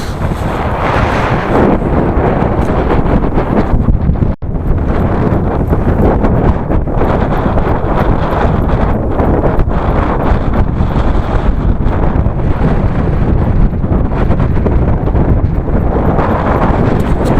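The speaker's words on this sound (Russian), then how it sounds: "Ух, ветерок здесь задувает-то, а?" Strong wind buffets the microphone continuously, a heavy roaring rush with brief dips, loud and close throughout.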